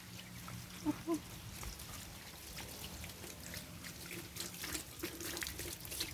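Water rinses soil and termites off potted plant roots, a faint steady trickle and splash with a couple of brief clinks early on.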